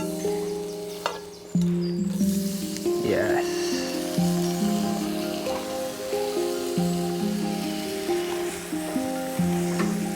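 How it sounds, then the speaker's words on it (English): Mushrooms fry in butter with homegrown herbs, giving a soft, steady sizzle that runs beneath someone talking throughout. "I'm just literally gonna cook these mushrooms in a little butter with some homegrown herbs."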